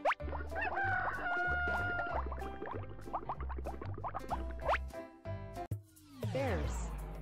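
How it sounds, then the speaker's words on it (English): A rooster crows repeatedly, loud and close, in a children's cartoon song, with clucking fowl and other farmyard bird calls layered around it and a low rumble underneath. "Rooster."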